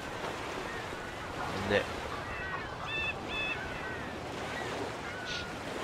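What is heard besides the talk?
ocean waves in video game Mafia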